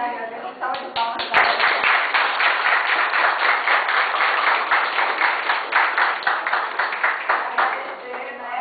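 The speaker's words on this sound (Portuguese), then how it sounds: "Agradeço a salva de palmas." An audience at a live event claps in sustained, dense applause that starts with a few scattered claps and then holds steady, fairly close, with voices faintly underneath.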